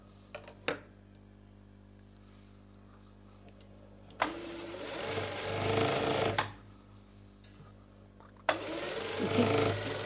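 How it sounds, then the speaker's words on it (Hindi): Sewing machine stitching a trouser seam, running in two sustained bursts with a quiet pause between, close and fairly loud, after a few sharp handling clicks at the start. "ये कपड़ा बिल्कुल इसके बराबर रख कर और हमने अब ये वाली सिलाई लगानी है।"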